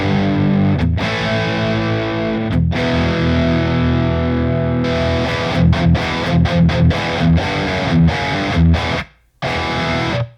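An electric guitar through an overdriven amplifier plays gritty sustained chords and then choppy repeated stabs, loud and close, breaking off briefly before one last chord.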